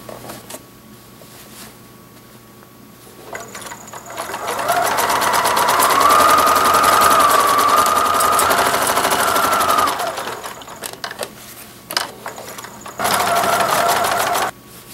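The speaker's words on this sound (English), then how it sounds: "I will start at a lower seam and sew all around." A sewing machine stitches a seam around a doll's reversible hoodie, running in a fast steady whir for several seconds, then stopping and resuming in short bursts, close and loud against quiet pauses.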